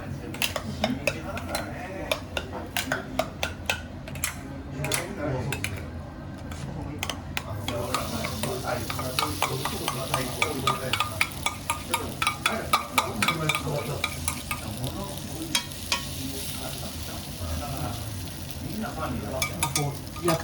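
Okonomiyaki frying on a griddle at a long-established Osaka shop in Namba Sennichimae, with a steady sizzle, scraping and clinking of spatulas, and people talking over it throughout.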